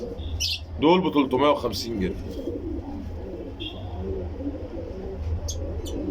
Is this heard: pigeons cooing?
yes